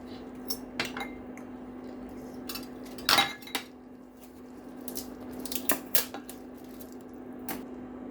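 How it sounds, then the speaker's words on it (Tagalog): Crushed pineapple goes into a pan for sweet and sour chicken, heard as soft wet plops and scattered metallic clinks of a spoon against the pan over a steady low hum. "let's add our crushed pineapple"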